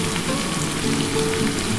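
Potatoes fry in oil with turmeric and salt, a steady, dense crackling sizzle heard up close without any talking.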